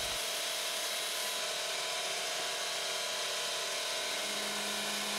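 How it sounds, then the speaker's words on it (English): A buffing wheel charged with carnauba wax polishes a turned natural-edge crotch wood bowl, giving a steady loud motor whine and broadband hiss that holds constant throughout, with no voices. "I will skip the white diamond stage and go directly to buffing with Carnauba wax"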